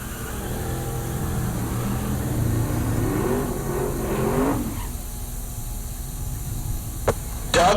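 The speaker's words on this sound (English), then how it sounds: "we'll get these vehicles fired back up" Drag racing cars at a strip, including a Nova, idling and revving with a loud, rising engine drone that climbs in pitch and then drops to a lower rumble, with a couple of sharp pops near the end.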